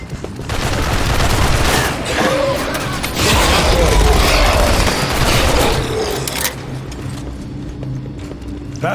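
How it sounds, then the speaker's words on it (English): An incendiary sentry gun fires in Aliens: Fireteam Elite, a continuous crackling barrage with rumbling bursts over dense game combat noise, easing off toward the end. "Incendiary sentry gun."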